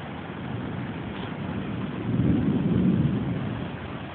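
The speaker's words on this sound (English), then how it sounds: "That lightning's getting closer." Thunder from a nearby lightning storm rolls as a broad, loud rumble, swelling midway and fading slowly, heard alone with no voices.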